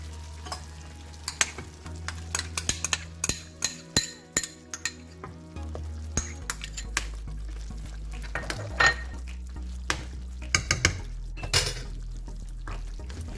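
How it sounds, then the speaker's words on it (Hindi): A spoon stirs coarsely ground browned onion into chicken korma in a metal pot, with repeated clinks and scrapes against the pot over a low steady sizzle, and no talking. "इसे इसमें मिला देंगे और अच्छी तरह मिक्स कर देंगे सबको"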